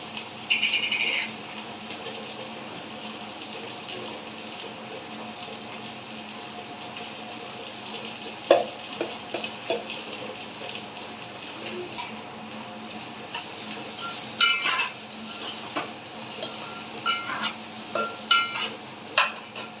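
A spoon clinks and scrapes against a pan as salted fried onions are stirred together with eggs for Guntur-style egg karam. The taps come intermittently over a quiet, steady hiss, with no talking.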